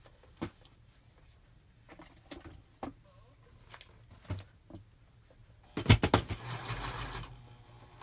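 A sewing machine stitches through paper in a short, close burst of rapid mechanical clatter near the end, after scattered quiet clicks and handling noises.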